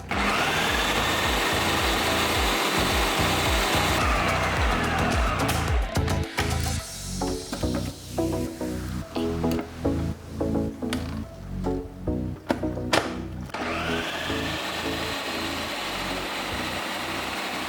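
A food processor whirs loudly as it blends chickpeas and oil for hummus, a steady motor drone that turns choppy and pulsing midway, then settles back into a continuous hum, with no talking.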